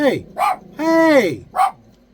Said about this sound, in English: That's the Bandit, my pup. And someone drove by and he's protecting us.